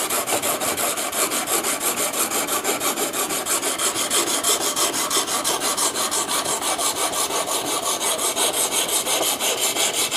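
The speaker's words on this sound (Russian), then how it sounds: "прохожусь 320 наждачкой" Rhythmic back-and-forth rasping of 320-grit sandpaper working a slightly curved knife blade, fast even strokes repeating steadily and close throughout with no talk.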